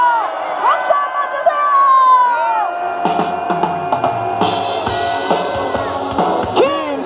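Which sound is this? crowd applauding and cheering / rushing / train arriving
crowd applauding and cheering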